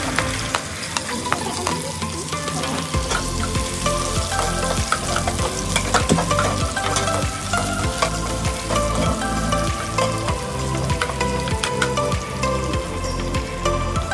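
Onions fry in hot oil for a potato tomato curry, a loud, dense, continuous sizzle with crackling pops throughout and no talk.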